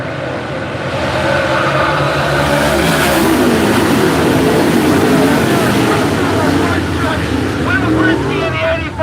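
Super late model stock cars accelerate together on a race restart at Latrobe Speedway, a loud, sustained roar of engines building steadily over several seconds, with a public-address announcer talking over the track noise.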